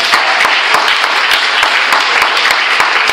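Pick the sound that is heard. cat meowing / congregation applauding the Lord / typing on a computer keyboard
congregation applauding the Lord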